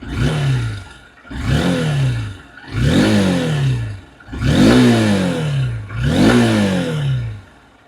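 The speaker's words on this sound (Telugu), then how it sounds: "వెహికల్ ఒకసారి థ్రోట్లప్ చేద్దాం ఇంజన్ సౌండ్ ఎలా ఉందో విందాం" A 2026 Honda Unicorn 160 motorcycle, freshly kick-started, is revved five times in a steady rhythm, each throttle blip climbing sharply then falling back to idle, loud and close with no talking.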